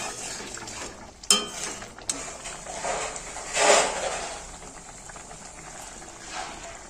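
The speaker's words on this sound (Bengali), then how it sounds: "এবার আমি নামানোর আগে একটু চিনি দিয়ে দেবো, ব্যাস আবার একটুখানি সময় ধরে ফুটিয়ে নেব।" Prawn malai curry gravy with sugar added simmers in a pan, a soft continuous bubbling hiss with a couple of sharp utensil clinks early on and a brief louder swell of bubbling midway.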